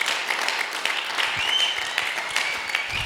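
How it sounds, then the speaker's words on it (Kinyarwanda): A church congregation applauds during a pastor's service, a dense, sustained wash of many hands clapping together, moderately loud and even from start to finish, with no voices standing out. "Dusubire kandi nimba tubishoboye tuyikomera amashyi menshi cyane."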